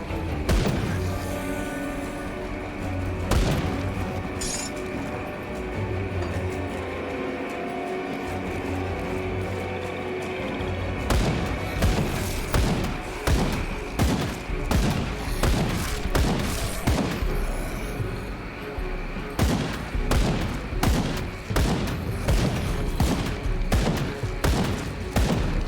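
Heavy, slow rifle fire in the action RPG Grim Dawn, with loud repeated gunshots that come in bursts of sharp cracks over a steady game ambience. The shots grow denser toward the end.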